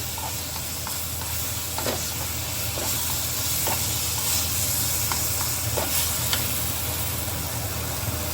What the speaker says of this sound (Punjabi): ਇਹ ਤੜਕਾ ਹੈ ਇਹਨੂੰ ਹੁਣ ਮਿਕਸ ਕਰਾਂਗੇ